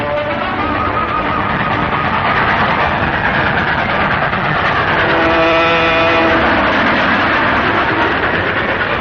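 A train running steadily and loudly up close, with a continuous heavy rumble and rolling wheel noise that lasts throughout, and faint tonal squeals rising partway through.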